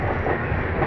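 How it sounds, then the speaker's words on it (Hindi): The Jodhpur Dadar Express pulling out of platform 2 at a junction station, a steady loud rumble of railcars with a rhythmic clickety-clack of wheels on the rails, close by and without voices. "प्लेटफॉर्म 2 से हमारी ट्रेन निकली यहाँ से"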